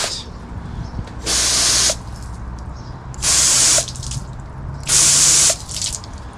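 An Eley hose nozzle sprays fine water mist in three separate bursts, each about half a second long, close and hissing, with quiet pauses between them.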